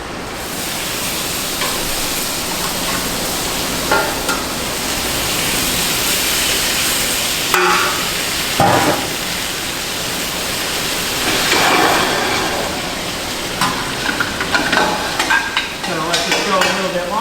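Steak searing in a restaurant oven or pan, a steady broadband sizzle that holds throughout with occasional louder pops and crackles, close and continuous with no talk.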